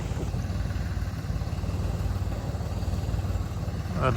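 A Raja tractor's diesel engine idles close by, a steady low throbbing chug with even rhythm that carries through the whole stretch, ending in a brief clatter.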